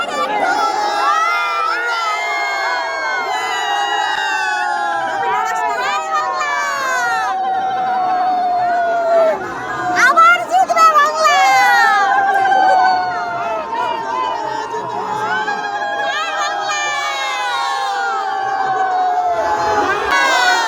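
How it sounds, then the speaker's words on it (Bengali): A large outdoor crowd packed in to see a helicopter: dense, continuous chatter and shouting with children's excited voices, close by and loud throughout, with a brief burst of louder cheering partway through. "এবার দেখো কি ভিড় হয়েছে, ঠেলে তাই যেতে পারছে না, এত পরিমাণে ভিড় হয়েছে।"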